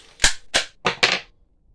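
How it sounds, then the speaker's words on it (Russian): Four sharp gunshots from a UDAR revolver fire in quick succession, each a crisp, loud crack with a short tail, spaced unevenly and heard alone with no talking. "Выстреливает."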